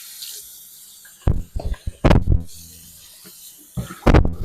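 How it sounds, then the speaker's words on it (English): Tap water running into a stock pot in a kitchen while making bone broth, coming in irregular gushing bursts and splashes with pauses between, close and fairly loud, with no talk. "Go ahead and get some water in that."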